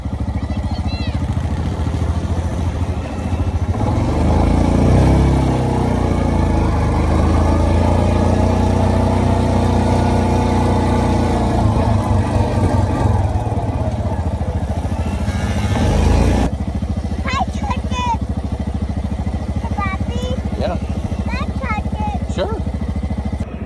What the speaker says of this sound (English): we got him this 90cc quad